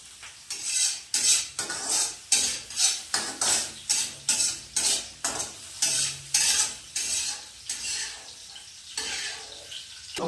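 Egg fried rice stir-fried in a pan, with rapid rhythmic scraping and tossing strokes of a spatula against the metal over a continuous sizzle. The strokes are close and loud, with no voices.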